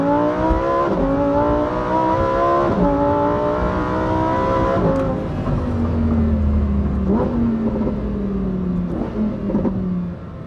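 Lamborghini Huracan STO V10 engine heard from inside the car while driving, revving hard through rising pitch sweeps with sharp drops at each gearshift, loud and close, then settling into a lower, steadier tone.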